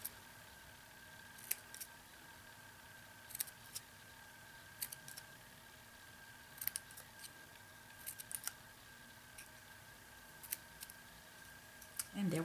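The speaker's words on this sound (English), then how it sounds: "I'm taking my snips and I am cutting between these petals of this flower" Snips cut between the petals of a paper flower in a crafting tutorial, about a dozen short, crisp clicks spaced irregularly across a quiet background, close and faint.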